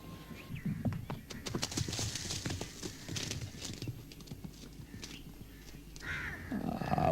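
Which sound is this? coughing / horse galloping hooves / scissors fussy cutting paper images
horse galloping hooves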